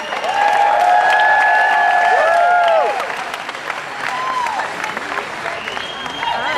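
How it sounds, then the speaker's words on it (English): Loud audience applause and cheering for Cody, dense and sustained, with whistles and voices rising over the clapping before it eases slightly and carries on. "Give Cody a round of applause, everybody."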